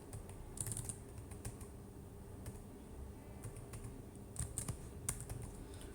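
Keys tapped on a computer keyboard as a name is entered in a Python file, quiet and close, with scattered clicks and small bursts of keystrokes over a steady low hum.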